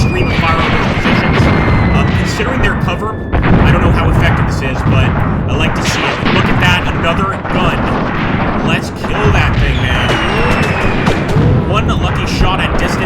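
A WW2 North Africa battle in a video game, with a steady stream of rifle and machine-gun fire mixed with heavy artillery booms, loud and continuous while someone talks over it.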